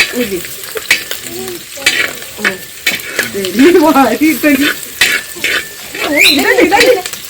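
Ginger, garlic and green chilies fry and get stirred in a pan for a Kerala beef roast, a steady sizzle broken by scraping strokes and a few clinks, with a voice speaking over parts of it.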